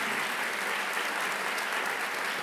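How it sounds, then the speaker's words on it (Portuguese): A church congregation applauds in honour of a pastor, steady dense clapping filling the space evenly from start to finish with no voices standing out. "Vocês podem aplaudir o Senhor pela vida do pastor Edmar."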